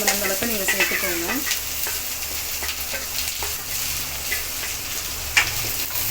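Onions and green chillies sautéing in a pan give a steady, close sizzle, with a spoon stirring and scraping against the pan near the start and a few light taps later on.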